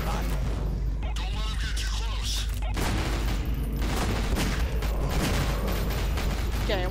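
Rapid, continuous gunfire from the video game Nightmare House 2 rattles throughout at close range and loud level, mixed with mechanical clanks and booming impacts, and a voice talks over part of it.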